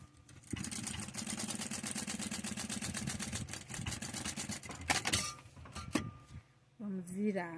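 A sewing machine runs a side seam on a small cube-shaped fabric toiletry bag decorated with rhinestones, giving a steady, fast rhythmic whir for several seconds before stopping with a few clicks and a brief voice at the end.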